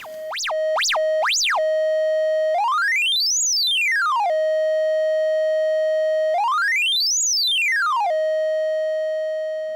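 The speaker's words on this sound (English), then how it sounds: "We can take the CV out into the VCO and create sequences." Clean electronic triangle-wave tones from a modular synth sequence: a few quick stepped notes, then two long smooth pitch sweeps rising and falling, steady and loud with no voices.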